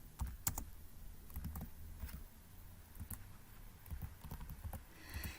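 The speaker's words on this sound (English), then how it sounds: "I'm just going to type in some random information." Keys clatter in irregular bursts of typing on a computer keyboard while random information is entered into fields of a reference-manager form, quiet and close with no voices.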